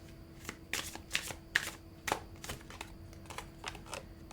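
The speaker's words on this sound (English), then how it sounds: "Let's get a Moonology card for sure." Moonology oracle cards being shuffled by hand before one is drawn: a close run of crisp riffling flutters and soft slaps in an uneven rhythm, with no talking.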